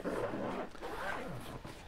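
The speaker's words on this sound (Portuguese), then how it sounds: "E aqui, ó, o zíper, você nem percebe que tem zíper, tá vendo?" A hidden zipper on a velvety carrying case for an Oculus Quest 2 VR headset is pulled in quick, close, rasping strokes lasting about two seconds.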